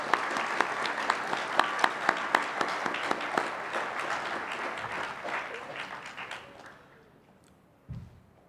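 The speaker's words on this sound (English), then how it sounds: "We can give them a round of applause." Applause for award winners at a regional science and engineering fair, a sustained crowd clapping with a few sharp, prominent claps up front, gradually thinning and fading out, followed by a single dull thump near the end.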